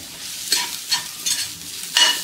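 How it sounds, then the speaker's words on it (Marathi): Coriander seeds are stirred into a dry pea kachori filling in a pan, making four distinct scraping, rustling strokes close by over a light sizzle, with no voices. "ते पण आपल्या हातावरती असे चोळून टाकायचे आहेत आणि मिक्स करायचे"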